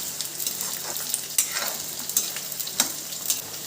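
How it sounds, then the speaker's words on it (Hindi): Black soybeans (bhat) roasting dry in a pan on a home stove in Uttarakhand, giving a steady light crackle with scattered sharper pops and ticks, close and alone without talk. "अब ये भट पहले चट चट चट चट करेंगे, आवाज़ करेंगे"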